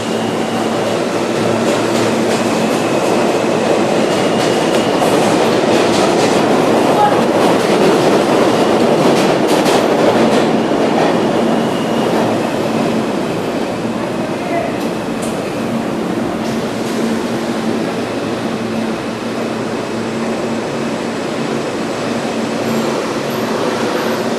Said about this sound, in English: I'm taking the F train.